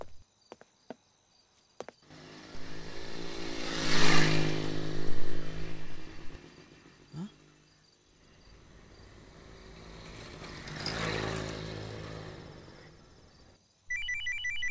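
A phone ringtone chimes repeatedly in a Hindi feature film scene. It rises and falls in two loud bursts over low background rumble, with no talking.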